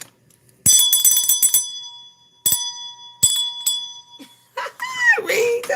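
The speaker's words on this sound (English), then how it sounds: "I got the bell." A hand bell is rung in bright, shaking bursts, a long jangle followed by two shorter shakes. A voice speaks briefly near the end.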